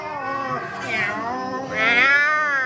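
People imitate cat meows, drawn-out, whiny human voices mimicking two or three meows in a row, close and fairly loud.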